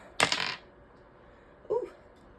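Dice clatter as they are rolled and knock against other dice, a sharp rattling burst followed by a single smaller click a second later, close and fairly quiet.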